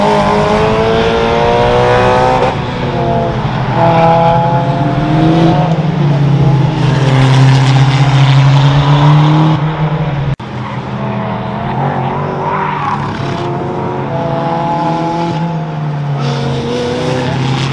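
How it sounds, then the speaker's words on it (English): A Toyota MR2 Spyder with a swapped 2ZZ VVT-Li engine laps a race track during a time attack, revving loud and close through rising and falling gear pulls, with a brief drop in level partway through. "hopefully I'll be able to give you some 2ZZ VVT-Li engine sound."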